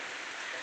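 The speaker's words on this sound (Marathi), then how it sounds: "पाऊस चालाय आहे" Steady, even hiss of rain falling, soft and continuous with no voices.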